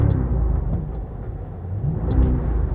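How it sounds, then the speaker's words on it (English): A 2004 Cadillac SRX Northstar V8 with AWD rumbles steadily nearby, rising slightly in revs toward the end, a low continuous engine drone with no speech. "I'm going to press the gas here for you. You can hear the engine."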